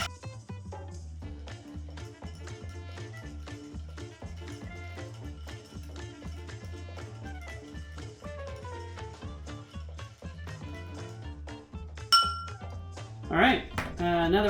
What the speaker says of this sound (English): Alright, then we get to stirring. Like I said in the previous video, stirring drinks usually take 3 minutes or so.